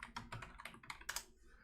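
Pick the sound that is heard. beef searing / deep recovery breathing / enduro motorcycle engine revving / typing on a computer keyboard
typing on a computer keyboard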